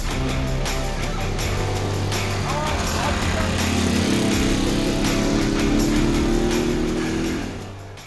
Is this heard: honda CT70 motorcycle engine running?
yes